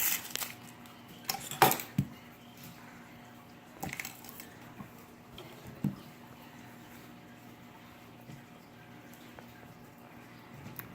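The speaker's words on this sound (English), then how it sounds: "Go ahead and slice your onion up." A knife slices through an onion on a cutting board in a home kitchen, giving a few faint, scattered taps and soft crunches with quiet pauses between them.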